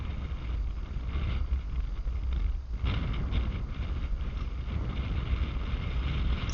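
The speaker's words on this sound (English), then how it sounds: "It's actually windy enough, guys, that I think a good gust is capable of making the car go a little twitchy" Wind buffets the microphone in a constant low roar with gusty fluctuations, blending with steady road noise from a Tamiya TT-02 RC car driving outdoors.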